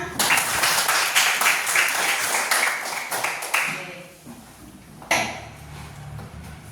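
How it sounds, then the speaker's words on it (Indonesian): Children clap hands together in a classroom, a fast burst of rhythmic clapping that stops abruptly, followed after a short pause by a brief second flurry of claps. "tepuk tangan."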